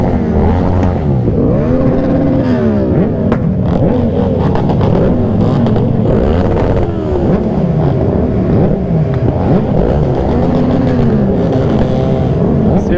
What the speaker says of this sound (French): Je vais laisser les motos faire le travail.